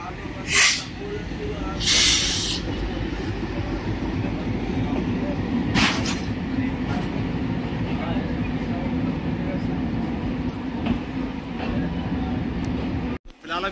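A Rewari–Delhi passenger train rolls along the rails with a steady rumble and rhythmic clatter, broken by a few sharp hissing bursts near the start and middle, heard from inside or close by.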